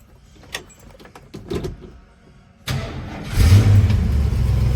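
A 1967 Ford Mustang coupe engine cranks with a few brief clicks and pulses, then catches and fires into a steady, loud idle that settles into a strong low rumble.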